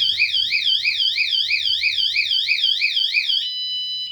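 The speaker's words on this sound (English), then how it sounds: "I turned the alarm off manually with the clicker because that shit's loud" A bicycle anti-theft alarm wails loudly and close by, a rapidly warbling electronic siren repeating steadily for about three and a half seconds before switching to a steady high tone, with no talking.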